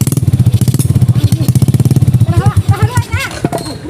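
Motorcycle engine idling close by with a steady low thumping pulse, while several people talk over it throughout.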